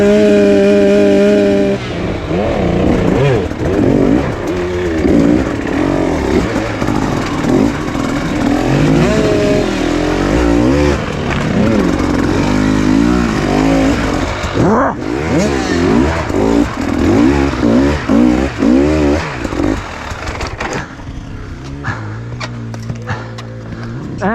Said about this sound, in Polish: Podnieś koło w tym motorze, Sebe.